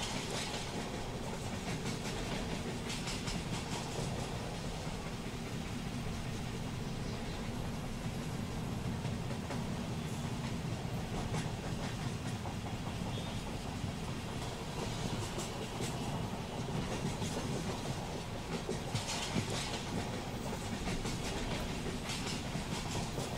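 A Mumbai Central Railway local train runs fast on open rails at about 70 km/h, producing a steady, somewhat distant rumbling roar with rhythmic clickety-clack from the wheels throughout.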